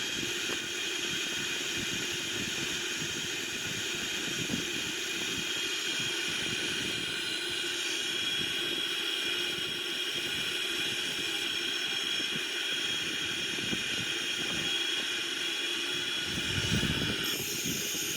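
Simulated cockpit of a Boeing 777-300ER descending to land on an ILS approach, a steady broadband engine and airflow roar with a constant high hiss throughout, loud and even, no talking.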